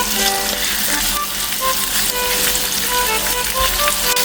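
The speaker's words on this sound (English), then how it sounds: "once you start to hear the pop and sizzle of the oil, start stir frying it." Loud, dense sizzling and popping of chicken stir-frying in hot oil, with stirring scrapes, continuous throughout and no talking.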